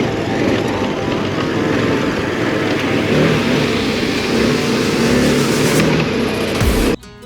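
A 2026 KTM 1390 Super Adventure R with a Wings aftermarket exhaust runs close by, producing a loud, steady, rumbling engine roar that holds for about seven seconds before abruptly cutting off.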